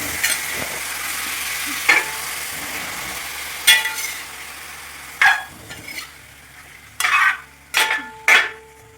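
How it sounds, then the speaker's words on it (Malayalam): Cumin chicken being stirred in a frying pan, with a steady sizzle of frying underneath and scattered scraping, clattering strokes of a utensil against the pan, several louder knocks toward the end. "ഇട്ട സാധനങ്ങളെല്ലാം നന്നായിട്ട് അങ്ങോട്ട് ഇളക്കി കൊടുക്കാം"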